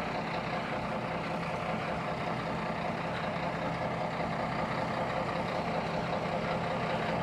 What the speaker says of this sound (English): There's a digger here, so I may as well film this part.